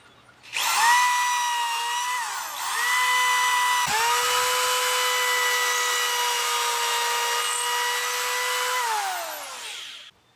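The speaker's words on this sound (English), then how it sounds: "So now I'm simply going to screw them in" A power drill drives deck screws into wooden studs with a loud, close, sustained whine lasting about nine seconds. Its pitch dips briefly and shifts as the screw bites, then winds down.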